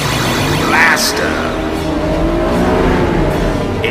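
Race cars circle a track in a loud, continuous engine roar, with a brief squeal and whoosh as cars pass close by.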